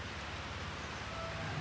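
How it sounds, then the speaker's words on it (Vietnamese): Light drizzling rain falls under an overcast sky in the Mekong countryside, a soft, even hiss that stays steady and faint for the whole short stretch. "đang mưa lâm râm."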